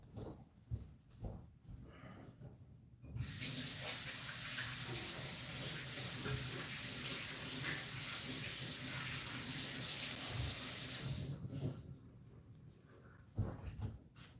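A tap gushes into a sink for about eight seconds, loud and steady, used to wash off paint, with fainter splashing and handling before and after.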